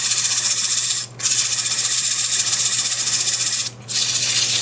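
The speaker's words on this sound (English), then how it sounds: "I'll just use sheets of paper and sand it by hand. Sand this forward at about 500 RPM." Sheets of sandpaper held by hand against a wet cherry bowl spinning on a wood lathe at about 500 RPM make a steady, loud abrasive rushing hiss, broken by two brief drops where the paper lifts away.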